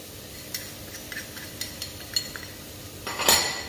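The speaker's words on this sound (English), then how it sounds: "That all goes in there, give it a good old stir around." A spoon stirs onions, cardamom and cinnamon in a pan, giving soft, intermittent clinks and taps against the metal that end in a louder scraping stir.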